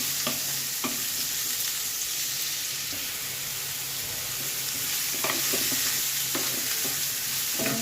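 Mustard seeds, cumin and a pinch of asafoetida sizzle in oil over low heat, a steady close frying hiss broken by a few scattered pops and stirring clinks.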